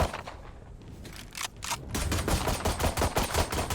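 Rapid automatic gunfire from the video game Valorant rattles in dense bursts, starting with a few scattered shots and then building into sustained, loud firing through the rest.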